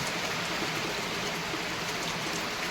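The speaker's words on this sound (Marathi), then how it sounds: "आज एकादशीचा बघा कसा पाऊस आला" Heavy monsoon rain pours steadily on Ashadhi Ekadashi in Jalna district, a dense, unbroken wash of hiss with no letup and no voices.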